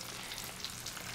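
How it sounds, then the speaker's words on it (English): Corn arancini sizzle steadily in hot frying oil, a dense, continuous crackling hiss that stays close and fairly loud throughout, with no voices over it. "Put them into the oil carefully. Beautiful sizzle."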